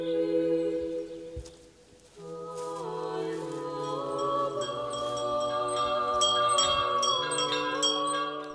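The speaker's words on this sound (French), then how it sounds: "Le son des cloches vient rompre le silence qui règne entre les fidèles et les touristes." Bells ring at a mountaintop Orthodox church, a dense wash of overlapping metallic tones and ringing overtones that pauses briefly near the start, then swells again and sustains loudly to the end.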